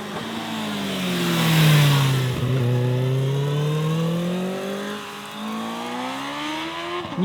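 A 2024 Kawasaki Ninja ZX-6R supersport motorcycle engine revs up loudly, rising in pitch, drops briefly at a gear change, then climbs again, close and continuous, on a country road.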